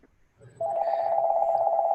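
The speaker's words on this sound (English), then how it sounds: "sorry about my phone." A mobile phone rings during a community meeting, its steady electronic tone starting abruptly and sustaining loudly after a quiet moment in the room.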